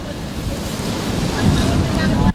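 Sea waves and gusting wind along Manila Bay roll in as a loud, continuous rushing wash, swelling toward the end before cutting off abruptly, with no voices.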